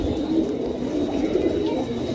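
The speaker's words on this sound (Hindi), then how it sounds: "तो ये देखिए आरिफ भाई कबूतर का शौक करा रहे हैं" Low, soft cooing from teddy pigeons rolls on steadily beneath a constant background rumble, with no talking.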